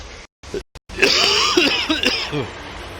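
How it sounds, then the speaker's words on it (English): A burst of coughing with rough, throaty spasms over steady background music from the video game Final Fantasy XIII-2, following a few brief sharp sounds. "Try not to cough my guts up"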